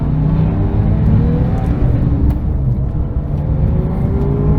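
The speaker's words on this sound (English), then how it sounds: "So we are heading back the other way now in the GT3. This car moves down the road very quickly." A Porsche 911 997 GT3 RS drives quickly along twisty back roads, its engine a loud steady roar with harmonic tones rising and falling under constant road and wind noise.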